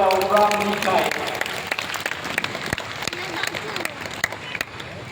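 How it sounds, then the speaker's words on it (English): A zoo crowd applauds at a bird of prey show featuring a Brahminy kite, steady outdoor clapping from a large audience, with a tonal sound and voices at the start. "Let's give him a round of applause, everyone, our Brahmini kite."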